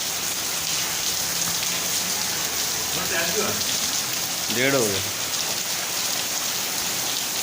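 Rain falling outside, a steady broad hiss of drops on surfaces filling the background while someone speaks briefly and another voice is heard nearby.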